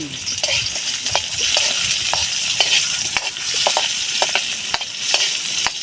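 A ladle scrapes and knocks repeatedly against a pan of sizzling food, with irregular metallic clacks over a steady crackle of frying oil, close and fairly loud.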